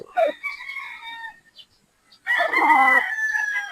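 A straight comb stag rooster crows nearby, two loud, strained calls separated by a short pause.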